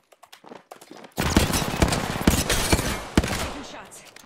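Gunfire in Apex Legends, played in third person: a few light taps, then a sustained loud burst of rapid shots with sharper individual cracks cutting through.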